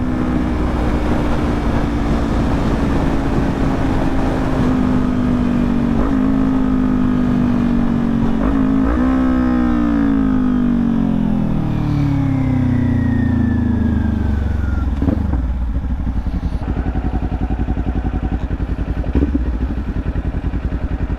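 A Kawasaki Ninja 400 motorcycle engine revs and pulls away, its tone sweeping up through the gears, loud and close at first, then dropping and fading as the bike accelerates off, with no talking.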